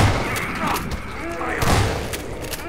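Grenade explosion in the Half-Life 2 Episode 1 game, a couple of heavy thumping booms among rapid bursts of gunfire-like impacts, close and loud, with voices talking over the action.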